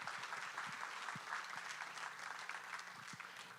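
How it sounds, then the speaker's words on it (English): At a town hall meeting, the audience gives a soft, steady round of clapping with a few closer individual claps standing out, fairly quiet and uninterrupted by speech. "So give them a round of applause for all the hard work they've been doing."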